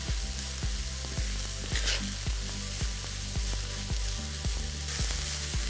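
Purple cabbage stir-fries in a hot pan, a dense continuous sizzle with repeated rhythmic thumps and scrapes of stirring, close and fairly loud throughout.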